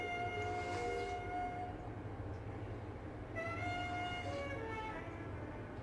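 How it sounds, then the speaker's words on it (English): A train passes outdoors on a misty, foggy day, heard as a steady low rumble with long drawn-out tonal horn or wheel-squeal notes that fade and then return, continuous and moderately loud throughout. "the train's making an appearance for the day."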